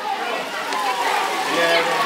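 Water running steadily at the Royal Spring in Kashmir, a constant close wash of flow, with voices talking over it.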